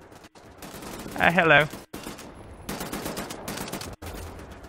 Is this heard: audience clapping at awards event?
no